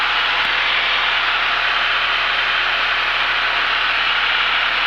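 A Piper Archer III's piston engine drones loud and steady from inside the cabin during flight, a constant broadband roar with no pauses or talk.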